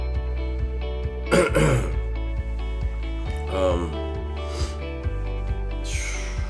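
A person with a cold clears their throat and coughs a few times, brief rough bursts over a steady humming background.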